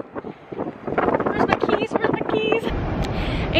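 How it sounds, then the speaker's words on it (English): Strong wind buffets the microphone with loud, rumbling gusts while a person talks over it. "It's super windy too."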